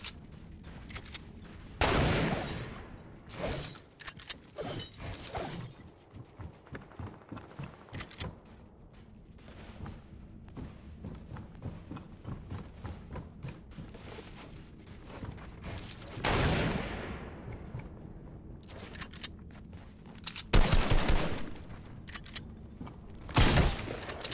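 Rapid bursts of gunfire crackle through a Fortnite shootout, with several loud volleys and scattered single shots rising and falling over about twenty seconds, mixed with game effects and no speech.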